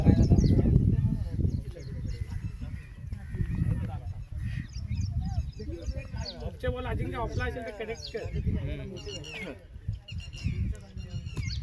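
Repeated harsh, honking bird calls ring out at a cricket tournament in Dombivli, over steady low background noise and murmuring voices, several calls in quick succession.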